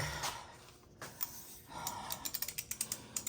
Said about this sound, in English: take my torque wrench off and back it off 6 clicks